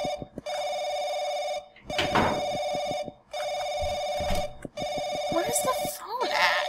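Electronic telephone ringing in the video game Paranoiac, a steady, loud repeated bell tone in bursts with short gaps, heard beneath excited talk.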